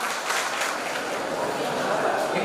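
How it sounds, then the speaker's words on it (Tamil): Students at a ceremony for National Consumer Rights Day applaud in a steady, even patter of many hands, while a voice speaks over the clapping. "மாணவர்கள் தங்களது கைத்தட்டல்களை வெளிப்படுத்தலாம்."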